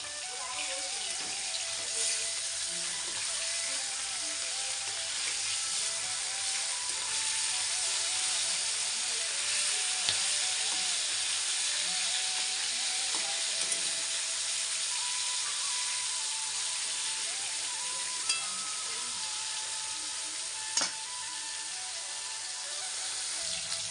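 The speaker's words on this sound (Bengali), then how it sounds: "আমি লাল লাল করে মাছটা ভেজে নেব।" Ilish fish pieces frying in a pan produce a continuous even hiss of hot oil, steady and moderately loud, with a couple of faint clinks and no talk.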